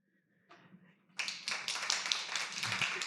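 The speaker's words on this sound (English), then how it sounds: "I hope you could hear the applause." Audience applause at the end of a talk at a convention in a Berlin club venue, starting with faint murmur and scattered claps, then swelling into steady clapping from a medium-sized crowd.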